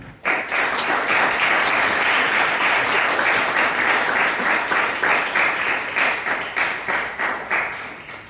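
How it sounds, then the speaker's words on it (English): Audience applause at a product management talk, a dense crowd clapping steadily for about eight seconds, then thinning into more distinct individual claps near the end. "Can I have everyone's help in giving a really big round of applause?"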